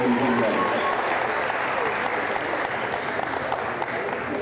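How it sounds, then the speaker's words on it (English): Sustained applause from a crowd honoring the senior players at a girls high school volleyball game, steady dense clapping throughout in a gym setting. "Please let's give another round of applause for Pennsauken seniors"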